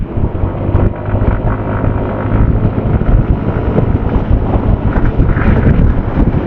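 Motorcycle cruising on an open provincial road toward Bagac, Bataan, with a steady low engine drone almost buried under loud, continuous wind buffeting on the microphone throughout.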